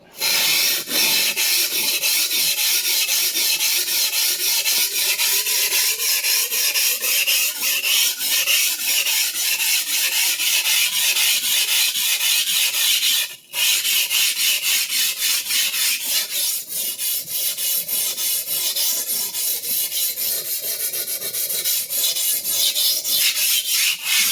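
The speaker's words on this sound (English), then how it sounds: "do a full pass or two, beginning in the heel, and then we'll check for burr on the other side" Clyde Cutlery chef knife drawn across a sharpening stone in continuous rasping strokes from heel to tip, loud and close, broken only by one brief pause midway.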